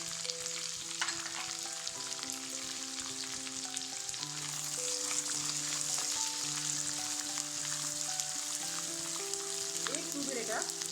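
Onion, garlic and ginger fry in a wok for a red-gravy kadai masala, giving a steady broadband sizzle that holds throughout, with background music tones running underneath.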